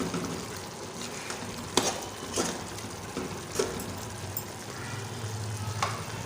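Spices and kaleji (liver) sizzle in a pan while being stirred, a steady crackling fry broken by several sharp scraping clacks of a spoon against the pot, close and moderately loud.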